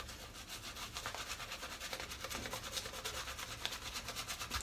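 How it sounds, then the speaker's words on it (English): A shaving brush scrubs and lathers soap for a Gillette Rocket 500HD shave, making a steady, close, continuous wet scratchy rubbing that keeps an even rhythm and stays loud throughout, with no voices. "A lot of scrub, sorry, not scratch, scrub from this brush."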